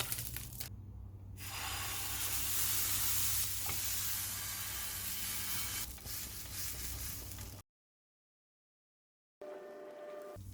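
A dosa cooks on a hot pan with ghee, giving a steady close sizzle with stirring scrapes, then a brief silence before quieter frying resumes.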